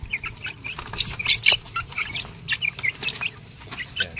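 A lone white leghorn chicken clucks and chirps in short repeated bursts, close by, over a low rumbling background with no talking.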